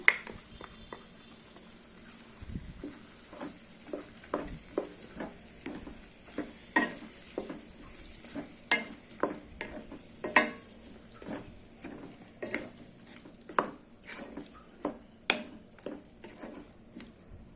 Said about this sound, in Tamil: இப்போ நான் நாலு தக்காளி இந்த மாதிரி அரைச்சி வச்சுருக்கேன் அதை சேர்த்துட்றேன்